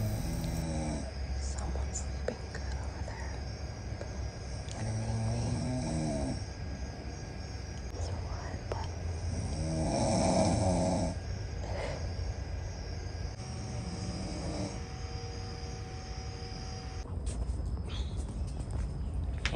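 Slow, rhythmic snoring breaths from a person sleeping at a campsite repeat every few seconds, close by, with faint background noise between them.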